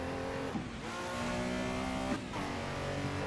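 Race car engine drones on a qualifying lap at Snetterton in a sim racing game, a steady high-revving tone with brief dips at gear changes, continuous and fairly loud.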